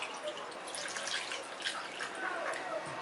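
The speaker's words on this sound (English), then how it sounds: "And now I'm going to add in my water." Water poured into a bowl of flour and semolina while making dough for North African msemmen crêpes, a steady close hiss and splash running without a break, with no voices.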